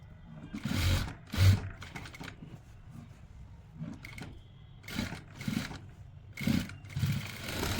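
Sewing machine stitching along the edges of a baggy winter shirt, short bursts of motor whirr and needle chatter separated by quiet pauses, close and moderately loud.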